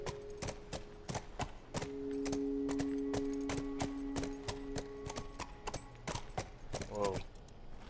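Horse hooves clip-clop in a steady, close rhythm in The Last of Us, each step a sharp knock, with a brief whinny near the end and people talking over it.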